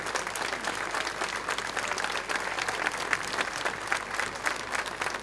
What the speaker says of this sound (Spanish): Con ese aplauso recibimos a Alba Pérez.